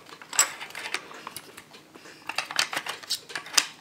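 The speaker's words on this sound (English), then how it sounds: "go ahead and just pull the charging handle back a couple times" A WASR-10 rifle's charging handle is worked back repeatedly, giving a run of close, sharp metallic clicks and rattling slides with no talking.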